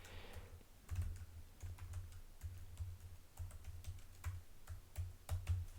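Someone types on a computer keyboard in quick, irregular bursts of soft key clicks over a low background hum, with no talking.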